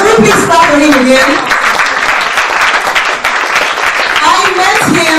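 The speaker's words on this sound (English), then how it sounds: "Can we please clap for him again?" Audience at an event bursting into loud, sustained applause, dense clapping filling the room with cheering voices mixed in.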